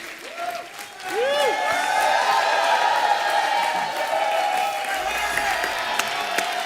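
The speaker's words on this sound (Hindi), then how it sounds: "एक बार जोरदार तालियां हमारे मेहमानों के लिए।" A studio audience on a comedy talk show claps and cheers to welcome guests; the applause swells after a second and holds steady and full, with voices and tonal music under it.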